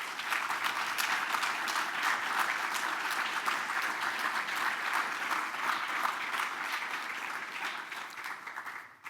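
A large audience at a Veterans Day recognition event applauds veterans, dense, steady clapping sustained for about nine seconds before cutting off abruptly at the end.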